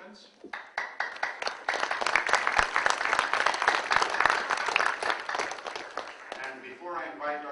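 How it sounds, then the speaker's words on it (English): Audience applause at a scholarship awards ceremony, a sustained wash of many hands clapping in a hall that swells after a quiet start and fades as a voice begins speaking at the end. "I would like to join you now in applause for this evening's program participants."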